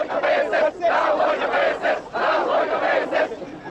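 A large crowd in Moscow carrying a huge Russian flag shouts anti-Communist Party slogans in loud, rhythmic surging chants that rise and dip with brief pauses.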